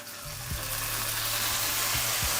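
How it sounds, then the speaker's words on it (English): Chips sautéing in butter on medium heat with red chili and curry: a steady, bright sizzle with a few low scraping stirs, close and unbroken. "I'm just gonna lightly saute these"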